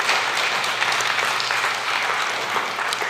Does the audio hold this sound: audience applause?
yes